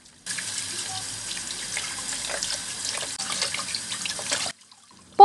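Tap water running steadily into a sink while sea bream fish are washed under it, a continuous bright splashing for about four seconds that stops abruptly.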